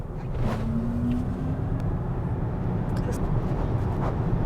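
A Tesla electric car pulls away under acceleration, a steady smooth rolling hum and road noise filling the cabin without pause, with no engine note and no one talking.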